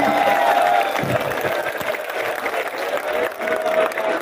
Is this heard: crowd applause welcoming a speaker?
yes